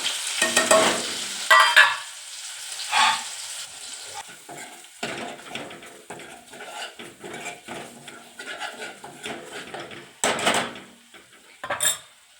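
Turmeric, red chilli powder and Kashmiri chilli powder hit hot oil in a pan, sizzling in bursts alongside scraping stirs and clinks of a spoon against the pot, close and fairly loud with quiet gaps between.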